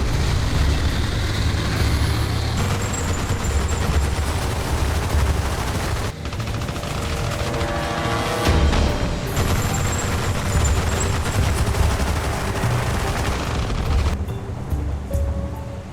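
Gunfire striking tanks from a building in Armored Brigade II, sustained crackling small-arms bursts over a loud, continuous rumbling battle wash, with sharp cracks around the middle and brief dips in the din.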